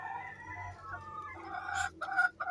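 Chickens on a poultry farm, 38-week-old laying birds, cluck and call in a busy flock, overlapping throaty notes and a rising crow-like cry, fairly close and continuous with no talking.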